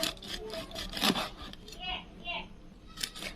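A knife cutting fish into thin slices for frying over a wood-fired stove, making repeated rasping, sawing strokes close by while a person talks over the cutting.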